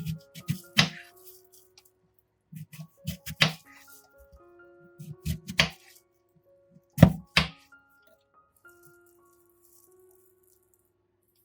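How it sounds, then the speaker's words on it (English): A knife chops a watermelon into bite-sized pieces with separate sharp thunks and rattling knocks on a board, coming in short clusters with quiet gaps between them, close and clear. "Cut the watermelon into bite-sized pieces."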